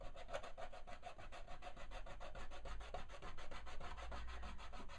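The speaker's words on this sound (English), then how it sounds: "take a clean eraser and very gently rub the white areas" Clean eraser rubbed gently back and forth on bone-dry watercolour paper, a quiet, close, rapid series of soft scrubbing strokes in an even rhythm, with no voices.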